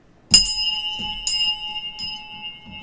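A bright bell rings three times with a long sustained ringing tone, each strike clear and close, the tone lingering between hits.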